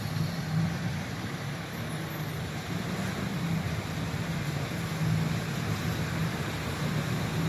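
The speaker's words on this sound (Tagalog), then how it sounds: "Pakita ko lang sa inyo yung traffic." Heavy road traffic at sunset, a dense, continuous rumble of cars, trucks and buses with a low engine drone, steady and fairly close, with no clear voices.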